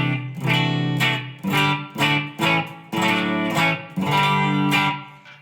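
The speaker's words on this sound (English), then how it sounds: "You can really hear that room reverb I put in there." Distorted electric guitar chords played through a Line 6 Helix into an amp in short phrases, each ringing out with a roomy reverb tail between strums.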